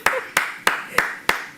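Hands clapping six times in a slow, even rhythm, crisp and fairly close, with faint background noise between the claps.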